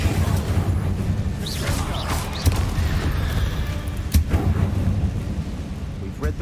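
An Incendio fire spell goes off in Hogwarts Legacy, making a dense roaring whoosh with crackling bursts and a couple of sharper impacts. Game music and effects blend in, and a voice calls out over it.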